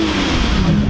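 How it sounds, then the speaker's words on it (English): A car doing a burnout at a Houston car meet, a loud continuous engine roar close by and filling the whole moment. "Someone's doing a burnout."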